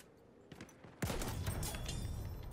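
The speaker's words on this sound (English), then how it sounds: "Oh, I'm getting shot at by a sniper." Gunfire in the video game Battlefield 1, faint scattered shots that swell into a dense, continuous barrage of distant fire.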